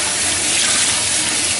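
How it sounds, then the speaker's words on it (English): Water gushes out of wet felt being squeezed by hand for a pillow, a loud, close, continuous stream of trickling and splashing that lasts under two seconds. "I can start squeezing it out like this"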